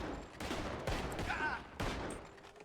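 A burst of several loud, sharp gunshots cracks out close by in a Wild West RedM roleplay game, with voices talking over and between the shots.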